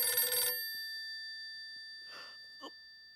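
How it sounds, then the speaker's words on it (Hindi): A telephone call for Seth ji comes in at a shop, its ring heard as a short, faint chirping burst after loud tonal ringing at the start, then a brief electronic tone near the end. "अरे बाप रे, सेठ जी का फोन"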